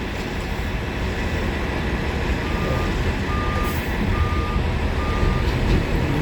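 Reversing beeps from a Toronto Transit bus, route 54, repeat at a steady interval in a mid-pitched tone over a constant loud street and engine rumble.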